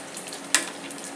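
Oil is poured over layers of peni dough frying in a pan, giving a soft continuous sizzle with one sharp crackling spatter partway through.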